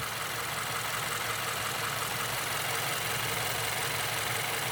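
A Subaru Forester's 2.5-litre FB25 boxer engine idles steadily on LPG nearby, a smooth low rumble with a constant hiss and no changes in speed.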